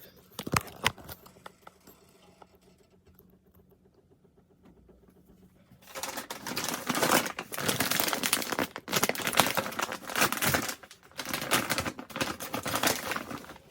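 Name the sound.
opening a bag of shrimp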